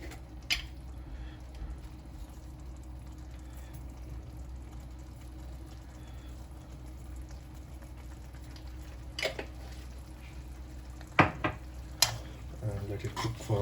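Mutton curry gravy simmers in a pan, a soft continuous sizzle with occasional scraping stirs and a few sharp knocks of the utensil against the pot.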